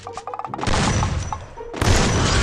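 Shots in the Free Fire mobile game, with a quick rattle of clicks and then two loud, dense blasts that each hold for about a second, close and without talk.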